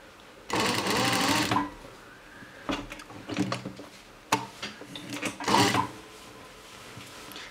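Sewing machine stitching the shoulder seam of a padded jacket, with a short steady whirring run, then stop-start bursts mixed with fabric handling and rustling, close by.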